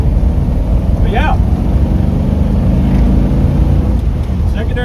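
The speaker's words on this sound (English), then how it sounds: "probably got the idle a little bit high because it's cold. It may want to play with that idle setting." A Holley 4000 carburetor that has been rebuilt feeds an engine running at a slightly high idle while still cold, giving a steady, loud, continuous mechanical drone with no breaks and no talk over it.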